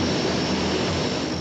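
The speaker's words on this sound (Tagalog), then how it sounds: "Dumating ang malahiganting eroplano ng Philippine Air Force." A large Philippine Air Force airplane arriving, its engines producing a loud, continuous jet-like roar that holds steady and close for the whole short stretch, alone with no voices.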